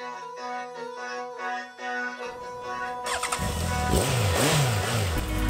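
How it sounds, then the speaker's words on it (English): A motorcycle engine starts and rumbles, then revs up loudly with rising and falling pitch, close by, after a brief stretch of musical tones. "I'm going to go ride my motorcycle to lunch."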